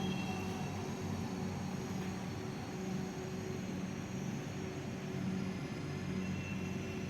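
A Dhaka metro rail train runs between Motijheel and Dhaka University stations, heard from inside the carriage as a continuous, even hum and rumble, with no voices.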